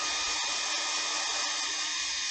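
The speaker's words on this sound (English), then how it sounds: "And so I'm just going to turn on my hair dryer here." A hair dryer runs close by in a woodturning shop, used to dry turned Christmas ornaments, with a steady, loud whirring hum and airy rush, unchanging from start to finish.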